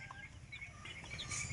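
A mother hen tends her newly hatched chicks, giving soft low clucks amid faint high peeping, close by and quiet.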